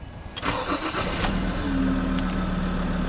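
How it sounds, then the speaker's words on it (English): A 2014 Ford Ranger Wildtrak engine cranks and catches with a loud close start, then settles into a steady idle hum. "Start the vehicle."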